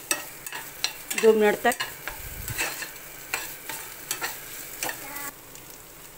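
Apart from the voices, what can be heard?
amla murabba mixture frying in a pan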